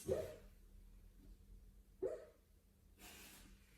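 A dog lets out soft muffled woofs and snorty breaths in short bursts, separated by quiet pauses, close by and fairly faint.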